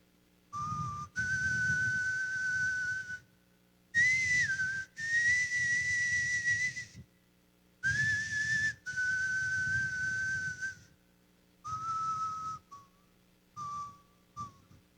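A person whistles a gentle lullaby alone in a series of clear, sustained phrases separated by short pauses, the tune rising and falling softly and ending in brief fading notes.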